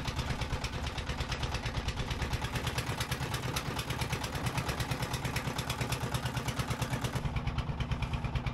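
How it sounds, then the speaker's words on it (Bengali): A boat engine passes close by on the water on a cloudy day, giving a steady, loud, rapidly pulsing motor drone that runs throughout and eases slightly near the end. "এই যে একটা বোট কিন্তু চলে যাচ্ছে আমাদের পাশ দিয়ে"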